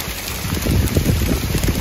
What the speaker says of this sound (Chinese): 下冰雹了。